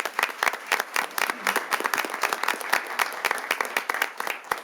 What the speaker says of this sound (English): One more big round of applause for these two guys.